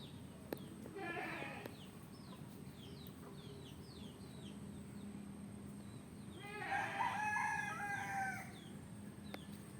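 Chickens and a rooster in a village garden: the rooster crows loudly and close twice, once near the start and once near the end, with scattered clucks and chirps in between over a steady outdoor background.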